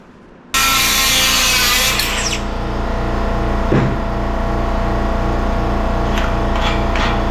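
A steady, loud power tool drones continuously against steel while working a pin out of an excavator quick coupler, with a periodic grinding rhythm and occasional brief scrapes.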